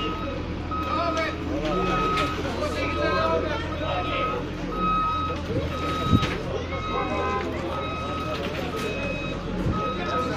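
An excavator towing a crashed vehicle after a pole accident, with a steady repeating reverse beep and low diesel engine rumble throughout while people talk nearby.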